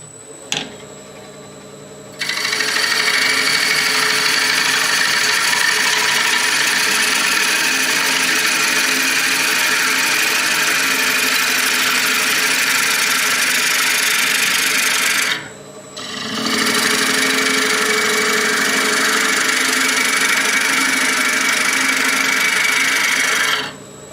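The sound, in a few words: wood lathe turning a green wood bowl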